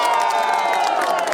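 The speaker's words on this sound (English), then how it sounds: "The happy faces, cheering and singing compelled the Malawi leader to stop and greet the crowd" Crowd of well-wishers in Malawi cheering and singing to greet the president, a loud continuous roar of voices with shouts close by.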